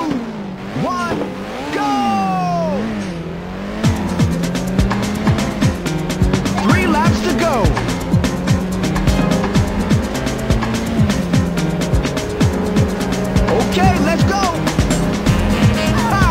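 Race cars in the PSP game Ridge Racer rev with rising and falling engine pitch, then roar off at the start with repeated loud tire squeals and skids, while an announcer's voice talks over the action.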